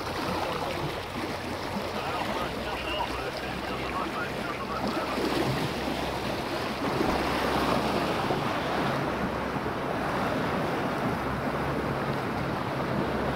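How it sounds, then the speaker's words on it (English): A boat with an engine fault drifts and is towed by an RNLI lifeboat across the Solent, with constant loud wind buffeting and sloshing waves throughout. "We're being towed back to Warzash."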